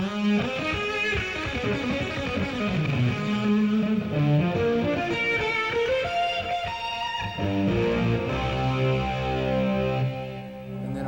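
Electric guitar lead tone played through a fuzz effect, a sustained distorted melodic line with bending notes and rich harmonics, loud and continuous with no talking.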